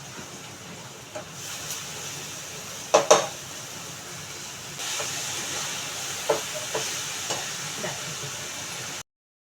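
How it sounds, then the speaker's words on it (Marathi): Fenugreek greens hit fried onion in a hot pan after a few soft clatters, and a steady sizzling hiss with scattered crackles and pops follows until it cuts off abruptly. "कांदा पोळलेला आहे त्याच्यामध्ये मी आता भाजी घालते"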